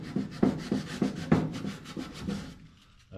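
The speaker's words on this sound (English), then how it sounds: "I'm gonna go ahead and scuff this up." Scuffing a K5 Blazer bed panel by hand with an abrasive, a run of rhythmic rubbing strokes, roughly eight close, fairly loud passes that stop near the end.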